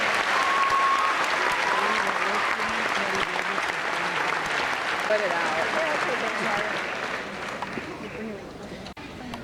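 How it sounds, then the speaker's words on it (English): At a graduation ceremony, a large crowd breaks into loud, continuous applause that thins out toward the end, with a few voices talking through the clapping. "Give them a round of applause."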